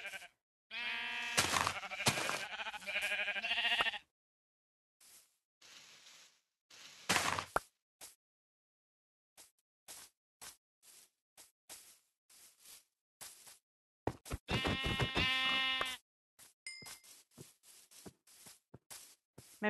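Sheep bleat repeatedly in the Minecraft video game, loud harmonic calls clustered near the start and again later, separated by soft footstep-like taps and quiet gaps.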